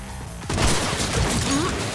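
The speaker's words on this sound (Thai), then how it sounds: "มันจะยิงยากหน่อยแหมไม่ได้ยิงปืนมานาน" Gunfire in the video game Cyberpunk 2077: a dense, loud burst of shots and crashing impacts begins about halfway through and keeps going to the end, with quieter game ambience before it.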